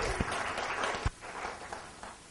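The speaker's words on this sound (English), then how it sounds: "Hey, you clapped too soon." Conference audience applauding as a presenter is welcomed to a web development session, a steady spread of clapping with a few sharper claps standing out, moderately quiet and fading slightly toward the end.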